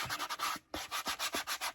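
Rhythmic back-and-forth sanding strokes on the rubbery surface of a Croc slide, about a dozen even scrapes with one brief pause, close and fairly loud.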